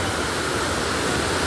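Close, continuous rush of water pouring down at Aruvikuzhy waterfall in Kerala, an even, hissing roar with no breaks.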